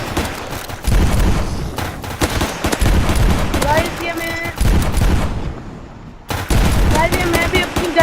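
Rapid bursts of gunfire as zombies are shot in the video game Zombie Rush, loud and close, coming in repeated volleys with a short lull before the firing resumes.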